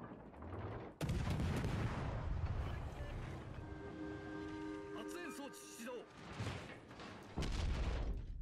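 Warship guns firing during a World of Warships Legends naval battle, several heavy booming volleys with rumbling low end and loud bursts near the start and end, a tonal whine in the middle, with a voice talking over it.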